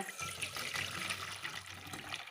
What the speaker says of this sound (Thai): หลังจากนั้นก็เท ลงใส่กระชอนนะคะ